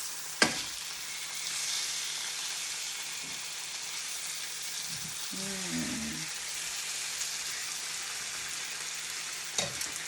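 Steak sizzling in a pan for a Sunday dinner, a steady moderate frying hiss throughout with a brief clatter of stirring or handling near the middle and a couple of sharp knocks at the start and end.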